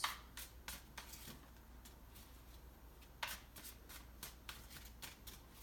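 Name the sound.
shuffling and pulling tarot cards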